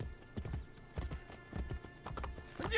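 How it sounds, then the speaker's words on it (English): Horse hooves clip-clop in a steady rhythm in Assassin's Creed Brotherhood, close by and fairly loud, with occasional sharper strikes and no talk over them. "The horse is right behind me."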